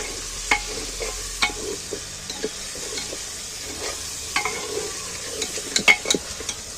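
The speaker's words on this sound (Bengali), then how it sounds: "এবার আদা রসুন বাটাটা তুলে দিচ্ছি এই যে আদা রসুন বেটে রেখেছি আদা রসুন বাটাটা দিয়ে দিন দিয়ে পেঁয়াজের সঙ্গে একটু নাড়াচাড়া করে নিচ্ছি ভেজে নিচ্ছি" Ginger-garlic paste and onions frying and being stirred in a pan: a soft continuous sizzle broken by frequent sharp spatula taps and scrapes against the pan, close up and without voices.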